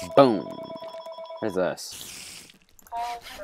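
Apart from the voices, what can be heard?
phone ringing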